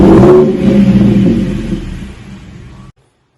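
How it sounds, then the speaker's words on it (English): A 2014 Ford F-150 V6 with its resonator removed and a Flowmaster Super 44 muffler gives a loud, close, deep exhaust rumble that swells at the start, settles into a steady drone, then cuts off abruptly near the end. "Got a little rumble to it for a V6."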